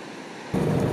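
Ocean surf rolls against the shore of Chiloé island, a steady broadband wash that jumps suddenly louder halfway through and stays full and close, with no voices.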